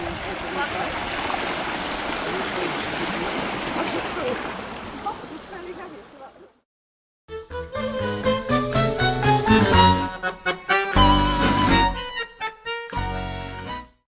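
Snowmelt stream of fresh mountain water flowing by a lake in a Tierra del Fuego national park, a loud, steady rush for about six seconds before it cuts off and gives way to sharper tonal sounds.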